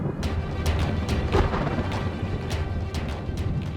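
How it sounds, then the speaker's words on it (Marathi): Rolling thunder with sharp crackling strikes of lightning, a dense loud rumble punctuated by several bright cracks, with no voices over it. "हा विजांचा कडकडाट कसला?"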